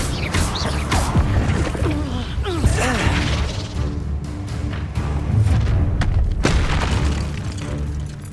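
An Incendio fire spell is cast in Hogwarts Legacy, a loud booming blast with whooshing, crackling bursts over dense game effects, while voices speak underneath.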